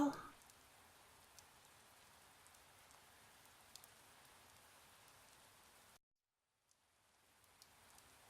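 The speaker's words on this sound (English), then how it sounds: "The sky continues to pour rain." Steady pouring rain from the Chaos;Head visual novel game, a soft continuous hiss for about six seconds that cuts to silence, then fades back in faintly.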